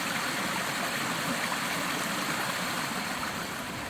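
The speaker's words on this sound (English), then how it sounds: "This one might have the best creek music yet." Creek water rushes and babbles steadily at a stream crossing on a redwood trail, a constant close wash of flowing water with no voices.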